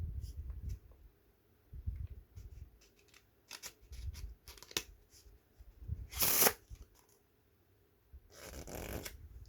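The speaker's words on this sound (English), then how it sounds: "What happens if you mix the cards a little bit?" A brand-new deck of playing cards is shuffled up close in quiet bursts, soft riffles and shuffles broken by a couple of sharp, crisp snaps.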